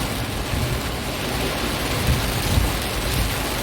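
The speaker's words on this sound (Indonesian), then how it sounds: "Hujan lumayan deras teman-teman, cukup deras ya teman-teman, mengguyur kota Palembang." Heavy rain pours steadily over Palembang city, a dense, even hiss of drops hitting surfaces with low rumbling underneath, continuous and close throughout with no voices.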